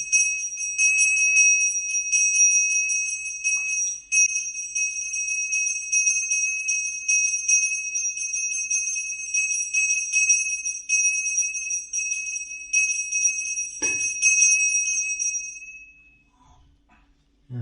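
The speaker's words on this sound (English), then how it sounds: "Very sweet bell." A small sweet-toned bell rings on in a continuous bright shimmer, sustained for many seconds in a quiet room before cutting off, followed by a brief faint knock and silence.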